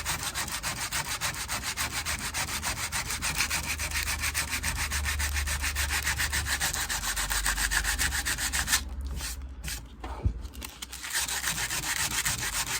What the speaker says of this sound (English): now that filler has gone hard, I get to sand it again